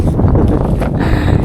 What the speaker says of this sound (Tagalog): malakas talaga hangin pag ganitong hapon na